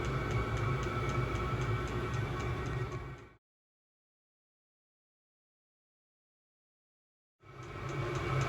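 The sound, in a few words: diesel heater running in a van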